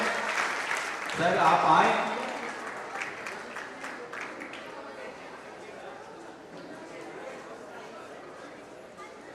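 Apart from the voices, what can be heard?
applause at an alumni meet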